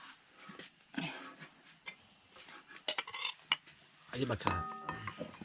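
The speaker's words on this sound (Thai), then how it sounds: "ขั้นตอนต่อไปก็คือคั่วเนาะคั่วให้มันสุกๆเลยตอนนี้มันใกล้จะสุกแล้วเนาะเขากำลังคั่วอยู่นี่" Bamboo rat meat dry-roasted in a pan, heard as quiet, intermittent scraping and clinking of a utensil against the pan with a faint sizzle, along with a brief spoken remark and some background sounds.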